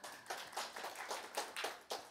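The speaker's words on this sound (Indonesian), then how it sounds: "Kasih tepuk tangan dong saudara." An audience claps hands in a gathering, a steady, fairly dense round of clapping heard at moderate distance with no voices over it.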